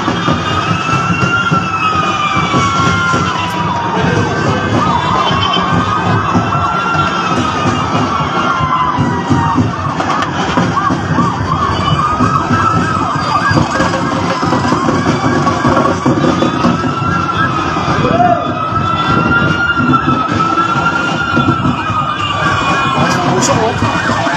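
A fire truck siren wails continuously at the scene of a fire in Ilaya, Divisoria, Tondo, Manila, its rising and falling tones loud and steady over a busy crowd background with scattered voices.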